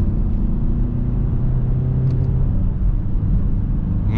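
A 2011 Peugeot 508 SW estate with a 1.6 e-HDi diesel engine is being driven, giving a steady, continuous engine and road rumble from inside the cabin with no voices.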